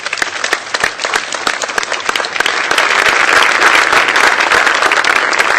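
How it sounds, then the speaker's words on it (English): Loud, sustained audience applause at a presidential event on a fuel efficiency bill, greeting auto and engine industry chief executives; dense clapping that swells and grows fuller partway through, with no talking over it. "Please give them a big round of applause."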